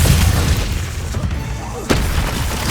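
An Incendio fire spell blast in the Hogwarts Legacy video game, a low booming burst that swells again near the end, with no talk over it.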